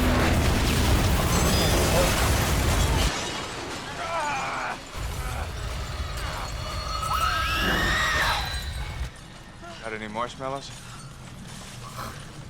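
Gas tanks explode in the video game Until Dawn: a loud, roaring burst of explosions and shattering debris fills the first seconds, then fades into rumbling, clanking noises with a voice talking over it.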